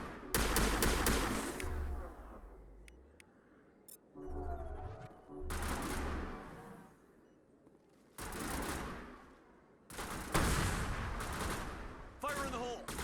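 Gunfire in the video game Mass Effect comes in loud bursts of rapid shots with short quiet gaps between them, and a voice is heard now and then.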